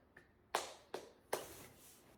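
Three sharp hand claps, close and evenly spaced about a beat apart, with a faint tap just before and quiet room tone otherwise.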